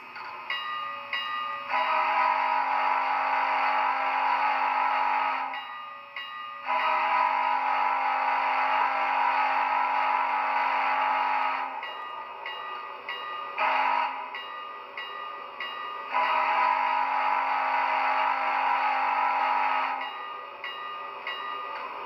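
A tinny Athearn HO scale Challenger model locomotive plays a grade crossing pattern, with long and short whistle blasts over a steadily ringing bell, loud and close.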